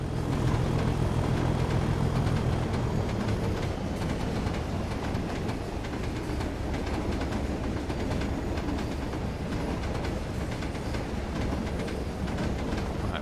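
A modern Class 66 diesel freight locomotive runs steadily in Train Sim World 2, with a dense, constant engine drone and rail rumble throughout and no talk.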